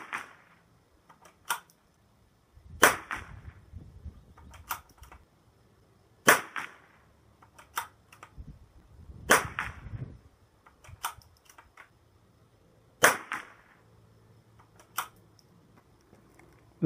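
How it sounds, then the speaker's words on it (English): A CZ 455 rimfire rifle fires a five-shot group: sharp, dry cracks spaced a few seconds apart, each with a short tail, over near silence with faint handling noises between shots. "We're going to really try to focus and get another 5 shots on the same target"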